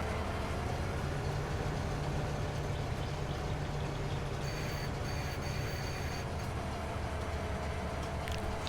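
A train rolls steadily through Farming Simulator 22's Silverrun Forest map, a continuous dense rumble of wheels and carriages with a low engine drone and brief higher squealing partway through, heard alone.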